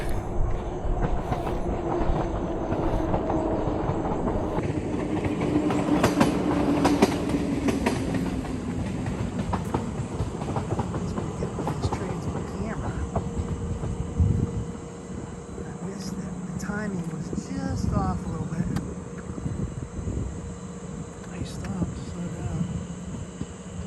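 A train rumbles past with rhythmic clattering of wheels on rails, loud and close, then fades into a lower steady rumble; a voice speaks partway through.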